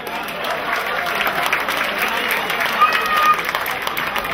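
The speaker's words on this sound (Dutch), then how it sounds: "Een applaus voor Evelien." A crowd applauds Evelien Kamperman, eighth-place finisher at the 2015 pole-sitting final. The clapping is dense and continuous, rising a little toward the end.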